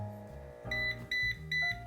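A home cold brew coffee maker's timer signals the end of its 10-minute extraction with three short electronic beeps over a low background hum.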